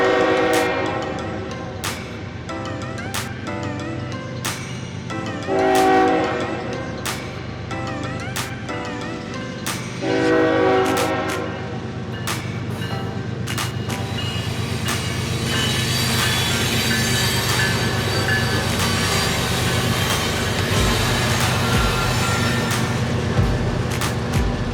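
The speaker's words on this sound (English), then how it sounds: "It's definitely a cargo train, and cargo trains are so long." A long cargo train rolls past close by, with rumbling wheels, repeated loud horn blasts early on, then a steady clatter and metallic squeal.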